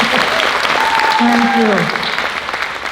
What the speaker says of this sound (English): Everyone clap for Brooklyn.